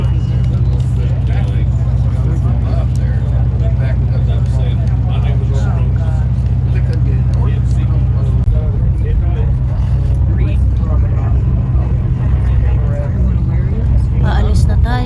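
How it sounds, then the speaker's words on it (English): Blue Ridge Scenic Railway tourist train starting to move, a heavy continuous low rumble and engine drone that stays steady and loud throughout, with faint mechanical rattles layered above. "Again, the train is about to move."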